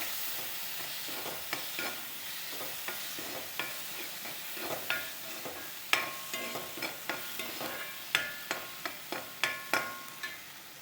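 Chopped tomato fries with chilli powder in a pan, a soft sizzle under a run of crisp utensil taps and scrapes that grow quicker and more regular toward the end.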